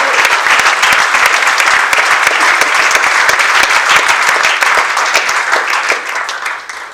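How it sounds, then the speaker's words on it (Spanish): Church congregation giving loud, sustained applause during a service, dense clapping that holds steady and then fades out toward the end. "le puedes dar un fuerte aplauso al Señor"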